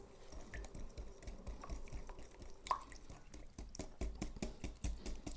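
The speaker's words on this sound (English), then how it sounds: "we're going to stir the flour mixture into the banana mixture" Flour mixture is folded into a mashed banana and egg batter for banana oat muffins, making faint, rapid, rhythmic ticking and tapping of a utensil against a bowl, soft and steady throughout.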